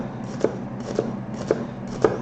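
A knife makes vertical cuts through a white onion on a cutting board for pico de gallo: four evenly spaced, crisp chops over a low steady background, with no voices.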